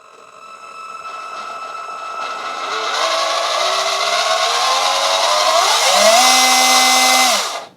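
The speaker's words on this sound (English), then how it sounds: "with it being a kind of cheap rig, it is a little bit whiny" Thin electric motor whine from a JJRC C8801 Pro RC car under feathered throttle, a loud, close, rising and wavering tone that builds over several seconds, steadies at a high pitch and cuts off abruptly, no voices.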